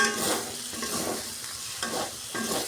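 Green chilies go into tomatoes cooking down in hot oil, with close, rhythmic stirring scrapes over a constant sizzle.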